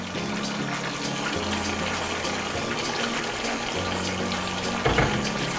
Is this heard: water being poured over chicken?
yes